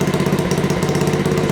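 A Honda Dax motorcycle with a Keepspeed exhaust kick-started and catching, its small engine settling into a fast, steady, close putter.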